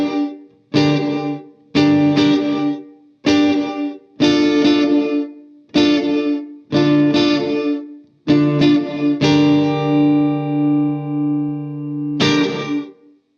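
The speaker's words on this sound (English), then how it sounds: "combine reverb with a noise gate and you get gated reverb." A series of loud, distorted sustained chords, each cut off abruptly into silence by a gated reverb from a Boss RV-2 digital reverb pedal, ending on one long ringing chord and a final hit.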